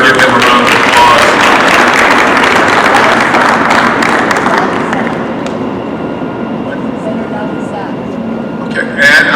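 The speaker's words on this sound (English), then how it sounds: "Give him a round of applause." Loud, dense audience applause at a Legislative Black Caucus sponsored genealogy event, a full roar of clapping that thins and fades after about five seconds into lighter scattered claps.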